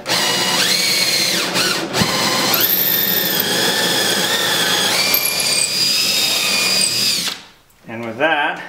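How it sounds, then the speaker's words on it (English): A power drill bores through the wooden seat frame of a cedar strip canoe, a loud close whine that climbs and holds steady across several seconds, then stops abruptly, followed by a brief rattling tail. "Trying to drill down as straight as possible."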